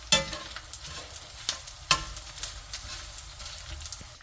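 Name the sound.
frying laddu ingredients in a pan until they pop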